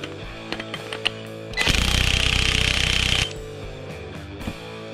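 Power tool hammering loudly in one steady burst of about two seconds as it tightens the nut on a scooter variator, with small clicks and workshop handling noises before and after.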